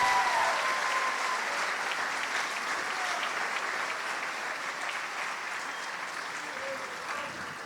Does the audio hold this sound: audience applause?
yes